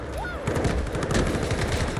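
Rapid gunfire rattles in the shooter game Delta Force, with a semi-automatic FS-12 shotgun in play; dense, loud bursts of shots run continuously and nearly overlap.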